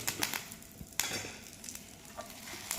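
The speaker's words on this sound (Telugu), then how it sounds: "స్లోగా వేపాలి. ఈ వేపడంలోనే మంచి వాసన వస్తుంది పొడి." Coriander seeds, cumin, curry leaves and red chillies fry in a spoonful of oil over low heat for groundnut podi, giving a faint steady sizzle with scattered crackles and pops, no voices.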